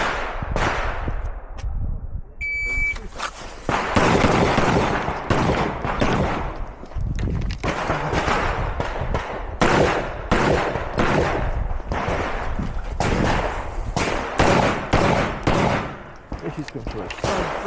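Pistol shots crack in rapid strings at a shooting competition, many sharp loud reports with short pauses between bursts, close to the listener, with range officials' voices heard briefly.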